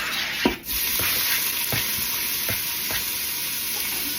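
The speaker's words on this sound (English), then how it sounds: "I'm gonna add in 5 pieces of bacon chopped into small pieces" Small chopped bacon pieces sizzle in a little oil in an Instant Pot on sauté, a steady bright crackle with a few spoon scrapes and knocks spaced across the sizzle.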